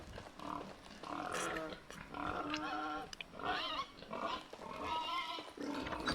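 Pig oinking near a barn in a video game, a run of repeated grunts and squeals in uneven bursts over a quiet background, fairly close and prominent with no talk over it.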